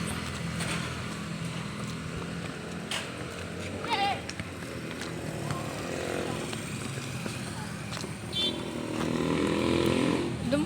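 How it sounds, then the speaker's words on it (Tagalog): Tricycles and motorcycles pass along the road in front of a school where students are picked up, engines droning steadily under faint background voices with a few brief chirps. "daanan ng mga sasakyan, tricycle, motor"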